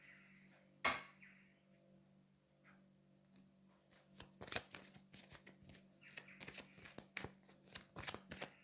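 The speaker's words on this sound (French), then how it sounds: "on va prendre 3 autres cartes" Tarot cards are shuffled and drawn close up, with a sharp riffle at the start and then a run of rapid flicks, slaps and soft shuffling, fairly quiet and without talk.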